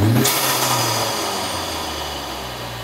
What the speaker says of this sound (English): You can really hear the turbo blow off.